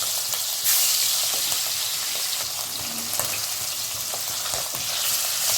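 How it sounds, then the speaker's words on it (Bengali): Hilsa fish pieces fry in hot oil with a loud, dense, continuous sizzle and crackle, punctuated by light scraping as the pieces are moved around. "আমার তেলটা খুব ভালো করে গরম হয়ে গেছে। এবার আমি মাছের পিসগুলো এইভাবে ছেড়ে দেবো।"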